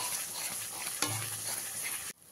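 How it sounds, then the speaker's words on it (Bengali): Masala being stir-fried over a high gas flame for a katla fish kalia, a steady close sizzle and scrape of spices in oil that cuts off abruptly near the end. "গ্যাসের ফ্লেমটাকে একদম হাইতে দিয়ে ভালো করে মশলাটাকে কষিয়ে নেবেন"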